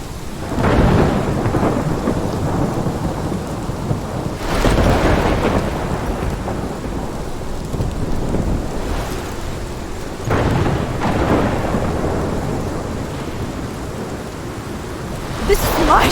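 A thunderstorm in the video game Life is Strange brings loud rolling thunder in repeated deep rumbles over constant heavy rain, with no talking.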